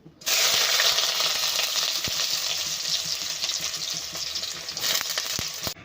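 Chopped onions land in hot oil with a sudden loud sizzle that holds steady for several seconds, broken by clinks and scrapes of stirring, with no voices.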